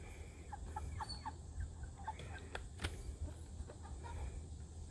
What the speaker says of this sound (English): trying to catch these Cornish crosses